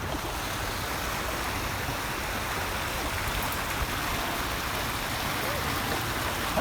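Creek water rushes through a kokanee salmon spawning channel at Mission Creek Regional Park in Kelowna, a steady, loud broadband rushing with no breaks, heard close and unchanging throughout.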